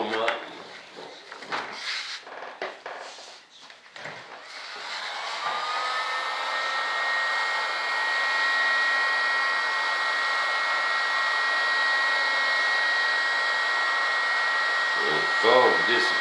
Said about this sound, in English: Now, we're ready to heat some foam up.